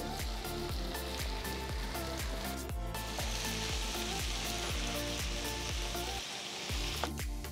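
Chopped tomatoes fry with ginger garlic paste in a pan, giving a dense, steady sizzle with regular stirring scrapes throughout, close and unbroken, with no voices.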